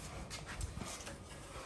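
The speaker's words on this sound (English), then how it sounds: "he's our shed dog." A shed dog pants close by in a car garage, a steady run of quick breaths with a faint whimper mixed in, and no talking.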